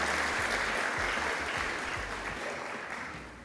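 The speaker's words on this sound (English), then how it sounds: "African First Ladies deserve a round of applause" Steady audience applause at a Merck Foundation inauguration event honoring African First Ladies, dense clapping from a large crowd that holds strong throughout and slowly tapers toward the end.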